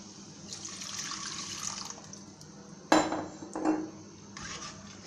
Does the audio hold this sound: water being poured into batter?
yes